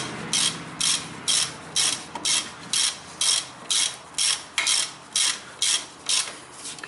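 Ratchet wrench tightening the brake caliper bolts on a Toyota Camry, a loud, close series of about twelve evenly spaced clicking strokes in a steady rhythm.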